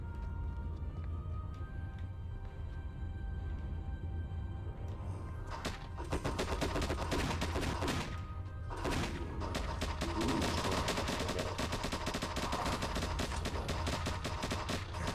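Gunfire in an Xbox 360 indie game starts as a low rumble, then breaks into dense rapid bursts of shots, close and loud, with a short pause before the volley resumes.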